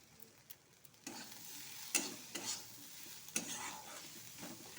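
Onion and green chilli fry in mustard oil with a quiet, steady sizzle, broken by a few scraping stirs of a spoon in the pan, heard close with no talking.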